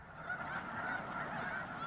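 A dense flock of snow geese, mixed with smaller Ross's geese, calls continuously from a grain field, many overlapping honks blending into a steady distant clamor.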